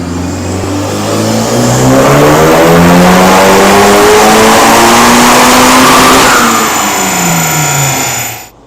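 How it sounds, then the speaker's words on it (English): A loud turbocharged Honda Civic Type R FK8 engine revs steadily higher on a dyno for several seconds, its pitch climbing and holding at a sustained roar before dropping off abruptly at the end. "Right now we're doing our base pass."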